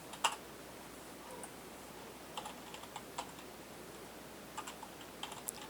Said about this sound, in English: first thing we want to do is we want to type in sudo